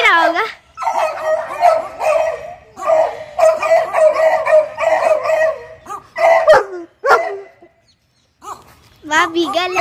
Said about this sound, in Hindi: देखो कितने सारे डॉगी, एक ये चुहावा, उधर बीगल है, उधर लैब्राडोर है